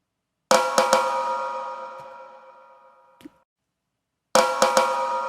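A snare drum sampled by hand and played from a software sampler, drenched in heavy reverb: a cluster of three sharp hits with a long washing tail that fades out, then silence, then another group of three hits.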